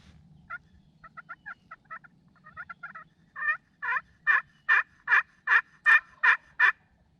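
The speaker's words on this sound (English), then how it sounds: "I can already hear turkeys gobbling from the roost nearby" Wild turkeys gobble from a nearby roost during an early-morning spring hunt in Wisconsin: a string of rapid gobbles, faint and distant at first, then a series of loud, evenly spaced calls growing closer and stronger.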